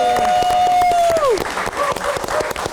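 Applause from a live audience at an Indonesian film talk show, a burst of clapping that rises over a fading tonal music sting, then continues unevenly with a few cheers.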